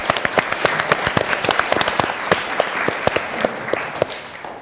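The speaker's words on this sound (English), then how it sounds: "Big round of applause for Sotheby's General." An audience at a Sotheby's talk applauds warmly, a close room full of clapping with distinct individual claps popping out steadily throughout.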